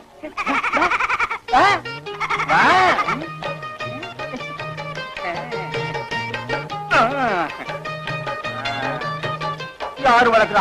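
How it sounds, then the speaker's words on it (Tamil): A young goat kid bleats repeatedly in wavering, quavering cries, loud and near, with voices talking in between and over the calls. "யாரு வளர்க்குற ஆட்டுக்குட்டியோ பாவம்"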